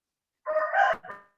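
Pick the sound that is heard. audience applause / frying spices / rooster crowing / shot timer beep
rooster crowing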